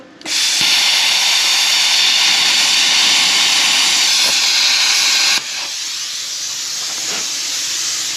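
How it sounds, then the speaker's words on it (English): A loud, steady broadband hiss like sizzling or escaping steam runs throughout, dropping slightly in level partway through, with a few faint clicks. "What do I hear sizzling?"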